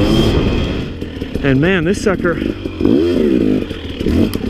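A Sherco 300 dirt bike rides along a wooded trail, its engine droning steadily and fairly loud beneath someone talking throughout.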